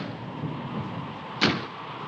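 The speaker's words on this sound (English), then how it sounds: "That's just the wind banging a door." A door is banged by the wind in a 1959 thriller film: one sharp knock rising briefly over a steady windy hiss.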